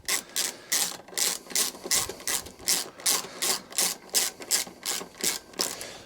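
Hand tool working a bolt on the condenser of a Honda HR21 lawnmower, giving a quick rhythmic series of close rasping, ratchet-like strokes, about two per second.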